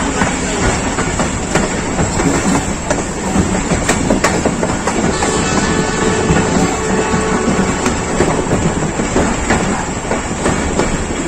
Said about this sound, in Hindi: ये जो टेन डाउन अल्लामा इकबाल एक्सप्रेस है